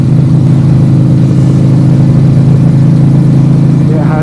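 A 1998 Buell S1 Lightning motorcycle V-twin with a CV carburettor and a Vance & Hines slip-on exhaust, running steadily with a loud, deep, throbbing rumble that holds an even note from start to finish.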